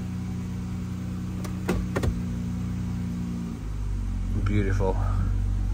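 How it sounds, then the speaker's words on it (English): A 2012-2019 Dodge Grand Caravan engine idles with a low steady rumble, its tone dropping as it is shifted into gear, with a few clicks and someone speaking briefly over it. "We got the engine running. Everything is fine. Let's go ahead and put the car into gears."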